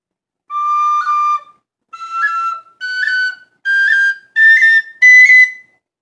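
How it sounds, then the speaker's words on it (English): An Irish tin whistle sounds six separate, clear sustained notes around middle D with short gaps between them, the pitch creeping slightly higher across the phrase. "I'm playing middle D with this finger down"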